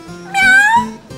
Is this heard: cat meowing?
yes